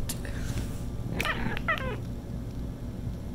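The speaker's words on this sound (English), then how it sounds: "Here's my cat." A house cat meows a few times, close by and clear, against a steady low background hum in a room set up for product photos.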